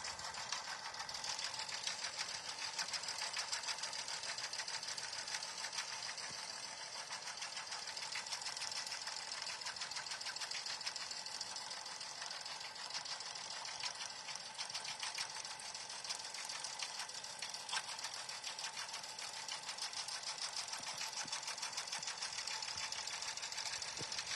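A sewing machine stitches a patch design, running steadily at close range for the whole stretch with an even, rapid mechanical whir and no voices.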